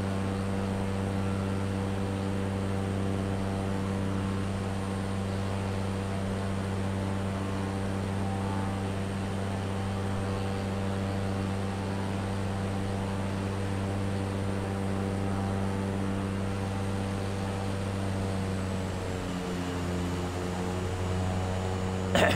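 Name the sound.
airplane in flight, engine noise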